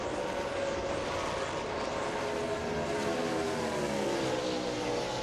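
NASCAR Cup race cars roaring around Pocono Raceway during a 2007 race, a constant, distant broad roar with swelling passes and no clear voices.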